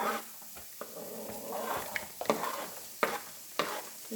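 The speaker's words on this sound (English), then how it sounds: "just going to go ahead and get my onions down in here" Onions going into a pan of hot avocado oil, frying with a soft sizzle and stirring, punctuated by a few sharp scrapes and clatters of a utensil against the pan.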